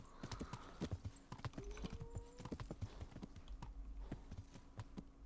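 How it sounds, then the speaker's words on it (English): Hooves of a horse in the video game Kingdom Come: Deliverance clip-clop in a steady walking rhythm, fairly close and quiet, with a brief whinny partway through. "What is this? Is this a horse? It is a horse."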